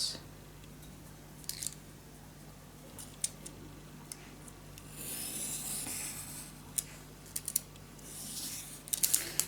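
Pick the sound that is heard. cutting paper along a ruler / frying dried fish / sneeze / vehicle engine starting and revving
cutting paper along a ruler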